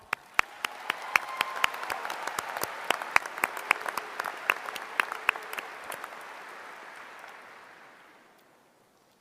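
Audience at a spring college commencement ceremony applauding, a dense, sustained wash of clapping with sharp individual claps standing out, gradually fading away toward the end.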